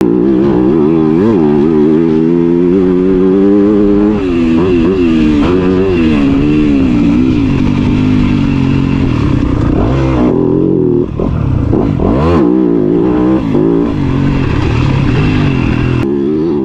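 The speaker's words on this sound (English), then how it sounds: "Here's a lap of Spencer riding the YZ250F on our amazing private track" A Yamaha YZ250F dual-injector dirt bike laps a private track, its engine loud and close throughout, revving up and down through gears with steady high-pitched drone and brief throttle dips.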